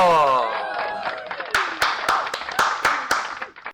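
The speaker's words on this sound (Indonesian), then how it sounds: "kita beri tepuk tangan sekali lagi buat Koko" An audience claps for Koko on a podcast set, a short run of distinct, evenly spaced claps that follows sustained tonal sound, then fades out.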